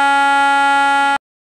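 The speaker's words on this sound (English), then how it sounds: "when the fish heard the buzzer" Underwater buzzer signal used to call fish in an experiment off Cape Cod: a single loud, steady harmonic buzz held for just over a second, then cutting off abruptly into silence.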